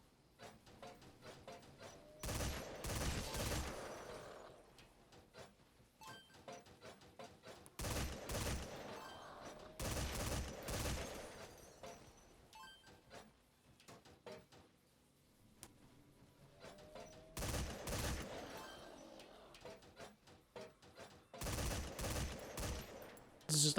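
Bursts of rapid video-game gunfire in Metal Gear Survive pick off small bug-like watcher creatures, with loud volleys separated by quieter gaps holding faint ticks and clicks, and a final shot at the end.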